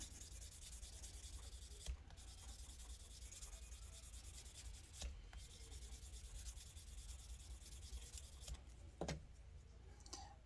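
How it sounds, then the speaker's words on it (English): Plastic car interior part from a Pontiac Fiero rubbed with a sanding stick to polish it: faint, steady back-and-forth scraping strokes with a few small clicks and knocks, no talking. "we're going to polish out the plastic just a little bit"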